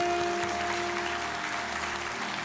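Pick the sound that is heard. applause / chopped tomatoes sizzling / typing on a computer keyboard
applause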